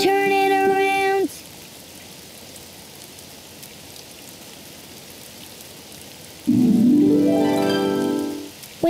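Cartoon rain falls outside in a steady soft hiss, set between short bursts of bright musical tones at the start and near the end.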